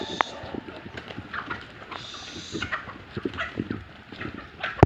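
Chickens being fed ripe bananas cluck and scratch around at close range, with scattered pecking and shuffling noises over a busy outdoor farmyard background.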